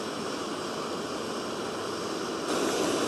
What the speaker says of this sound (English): So you can hear that burner going in the background.